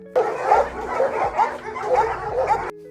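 Several Alabai dogs bark and yip in quick repeated bursts, close by and fairly loud, with a few whimpering notes in between.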